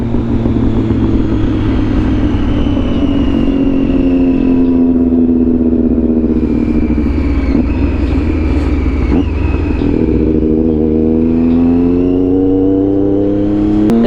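Sportbike motorcycle engine ridden on the road, a loud steady whine with harmonic tones rising and falling as the rider accelerates and shifts, continuous wind-laden roar throughout with no talk.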